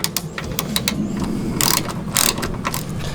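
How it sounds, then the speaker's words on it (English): A hand ratchet tightens a bolt on a Jeep TJ side mirror, with rapid, close, rhythmic clicking in quick bursts and a couple of louder scraping pulls, with no talking. "I'm gonna try and run this up with a ratchet and see how that goes"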